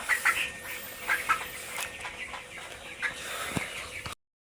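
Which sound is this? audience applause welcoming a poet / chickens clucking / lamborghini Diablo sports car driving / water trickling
chickens clucking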